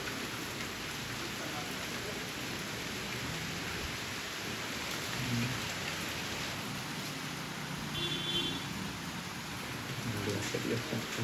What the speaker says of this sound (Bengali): এইখানে দেখা যাচ্ছে বৃষ্টি করছে